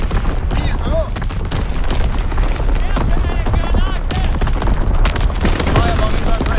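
Mortar and artillery barrage in a video game, with dense overlapping blasts and rattling gunfire roaring continuously while radio-style voice callouts speak over the combat.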